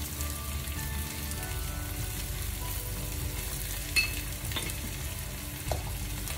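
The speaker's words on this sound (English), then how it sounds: "And mix it up with everything." Soya chunks with salt and black pepper frying in a pan, a continuous close sizzle under repeated stirring scrapes, with a couple of brief knocks of the utensil against the pan.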